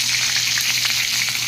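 Skipjack tuna (tulingan) frying in oil in a pan, giving a loud, steady, close hiss and sizzle with faint crackling pops throughout and no voices.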